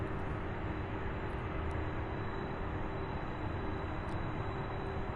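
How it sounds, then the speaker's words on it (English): A Boeing 747 departing Louisville International Airport and UPS Worldport, a steady, heavy broadband roar of jet engines that holds level throughout, distant but loud, with no talk. "So this is the second of 4 747 departures."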